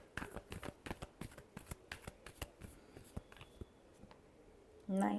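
Tarot cards are shuffled in a quick run of soft, crisp snaps and flicks, quiet and close, before a voice begins speaking at the very end.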